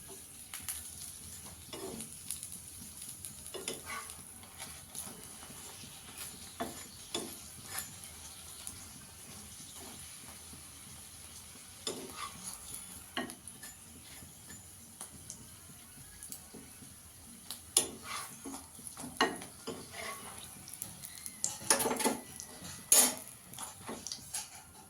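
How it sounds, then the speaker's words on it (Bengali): Aloo paratha fries in a pan, a faint continuous sizzle broken by light scraping and tapping of a spatula against the pan, louder clinks near the end, with no talking. "দু পিঠটা একটু লাল লাল করে ভেজে নিতে হবে।"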